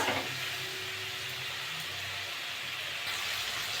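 Spice paste for a potato and silver calf fish curry sizzles and fries steadily in hot oil, a continuous close hiss with no talk over it.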